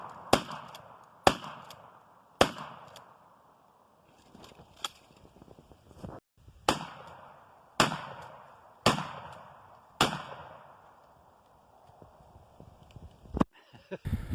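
Outdoor shotgun blasts fired to clear trees on a personal shooting range, about nine loud sharp reports spaced a second or so apart, each trailing off in a rolling echo, with no voices.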